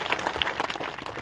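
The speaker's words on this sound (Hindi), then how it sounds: "उनके लिए जबरदस्त तालियों का अवकार हो।" An audience at a political rally in Barmer applauds a Gujarat MLA's speech, with brisk, dense clapping from a nearby crowd that stays fairly loud throughout.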